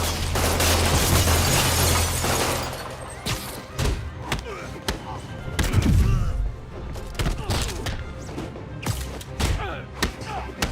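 Gunmen open fire in the video game Spider-Man Remastered, heard as scattered loud shots, thumps and slams over a rumbling backdrop, with brief shouted voices breaking in during the action.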